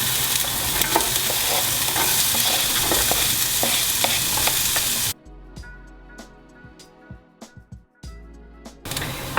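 Onions fry in a tablespoon or two of oil, a loud, dense sizzle with stirring clatter close to the pan, then a sudden cut to a quieter pan with sparse taps and crackles.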